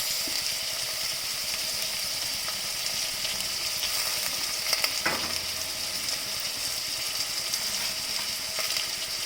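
Washed green peas go into vegetables frying for a vegetable biryani, with a steady close sizzling hiss, a brief splash as they are added midway, and faint stirring, no voices.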